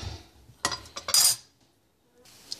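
A utensil scraping and clinking against a pan while scrambled eggs with avocado are stirred, a few sharp metallic strokes in quick succession followed by quiet, with a faint clink at the end.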